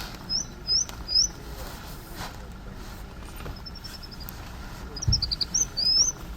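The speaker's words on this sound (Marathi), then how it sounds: "ही बुलबुल." A bulbul gives short, bright chirping notes in small bursts across open grassland at Kadbanwadi, fairly faint against a quiet outdoor backdrop.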